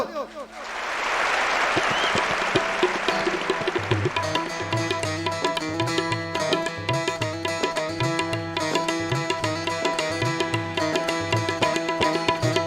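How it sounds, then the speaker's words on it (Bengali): Audience applause at a stage show of old songs: a brief swell of clapping that quickly gives way to loud band music starting up, with clapping blending into the beat. "তো HMVর জন্য একটা হাততালি হোক।"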